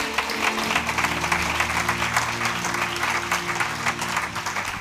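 A church congregation applauds together at a Pentecost service, a dense, continuous round of clapping filling the room at full strength for several seconds.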